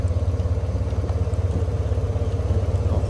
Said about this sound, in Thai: เครื่องยนต์นะครับ สมบูรณ์เดินนิ่งเงียบแน่นอนนะครับ